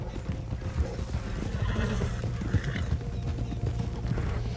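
Horses in Red Dead Redemption 2 clip-clop steadily on hard ground at close range, with a brief whinny, forming a continuous rhythmic hoof pattern with no talk.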